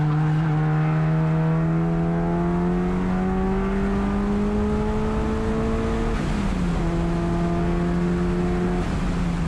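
Mitsubishi Evolution race car on the Thunder Hill East track, its engine droning steadily under throttle, pitch climbing slowly, then dropping briefly and rising again, loud and continuous with no talk over it.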